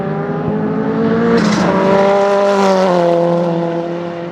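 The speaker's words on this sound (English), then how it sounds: "Shane Bond pushed his little Datsun 1200 coupe hard after making some suspension tweaks since last round." A Datsun 1200 coupe improved production race car at Baskerville circuit, its engine note rising and falling as it passes at speed on track, loud and steady with a clear harmonic whine.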